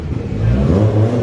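A car engine revs at a car meet, a steady loud low rumble rising slightly in pitch, close by with no talk over it.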